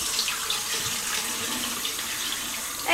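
Tap water runs steadily into a sink while cream rinse is washed out of hair, a close, continuous splashing hiss with slight fluctuations and a brief louder gush at the very end.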